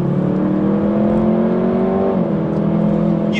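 A Jaguar F-Type 2.0L four-cylinder pulls hard out of a corner, its engine note rising steadily and then easing into a smooth, close whir, with no voices over it.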